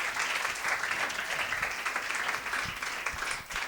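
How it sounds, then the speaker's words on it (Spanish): A live audience at a comedy show recorded in a venue gives a short, full round of applause, dense and steady clapping with a few nearer claps standing out before it fades slightly. "Un aplauso para ella."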